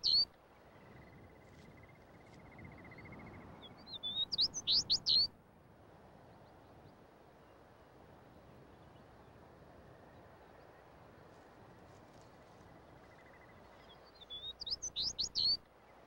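A Smith's Longspur sings on open tundra with grass clumps and heaths: two short bursts of sweet, rapid warbling notes, each about a second long and separated by a long quiet stretch over faint insect-like background hiss.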